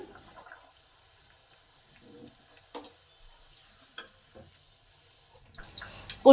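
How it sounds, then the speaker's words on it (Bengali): Kachori frying in hot oil in a wok gives a faint, steady sizzle, with occasional light utensil clicks and a louder clatter at the end. "আবার একটা কচুরি কড়াই ছেড়ে দিলাম"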